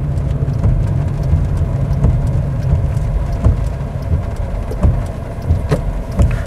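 Heavy downpour drums steadily on a car during a driving lesson, a dense continuous hiss with occasional sharper drops and knocks, no voices.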